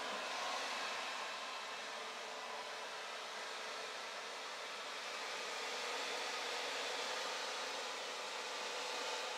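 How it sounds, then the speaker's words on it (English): Hair dryer fitted with a diffuser, running on high: a steady, loud broadband whoosh of blowing air that holds evenly throughout with no talking. "another great thing about the diffuser is I have this thing totally up on high, but it's not blowing my hair all over the place"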